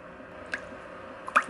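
Tablespoons of water go into chocolate shake mix in small quiet drips and two soft squishy splashes, close and faint, with no talking.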